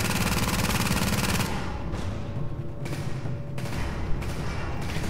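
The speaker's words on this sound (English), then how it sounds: "Deploy turret, stay hidden. And it just wrecks." Rapid automatic gunfire from a deployed turret in a shooter game, a dense, loud, continuous rattle of shots with short breaks in the burst, heard alone without talk.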